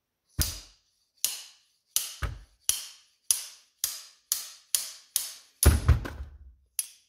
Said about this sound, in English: using the slide hammer, a quick pull upwards, and then we'll see if it comes out